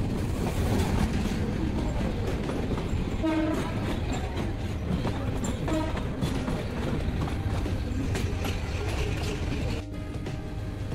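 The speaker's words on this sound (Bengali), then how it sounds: "ট্রেন প্রবেশ করল কমলাপুর আউটারে।" The Kishoreganj Express intercity train rolls into Kamalapur station in Dhaka: a loud, continuous rumble of wheels and carriages with rhythmic rail clatter and tonal horn or brake squeal notes, close by throughout.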